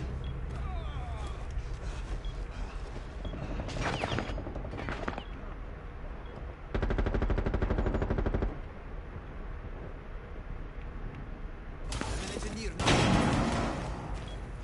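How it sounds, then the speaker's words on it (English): Gunfire in the Rainbow Six shooter game, with rapid automatic bursts and single shots close by as a teammate fires, mixed with a player talking over the action. "Stop shooting. Why is my teammate killing me?"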